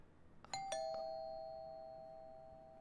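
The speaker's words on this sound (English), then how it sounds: "did you break into my house to ring my doorbell?" A doorbell in the horror game Fears to Fathom: Home Alone chimes with a few quick strikes, then one bright tone rings on and slowly fades, moderately quiet, with no voices.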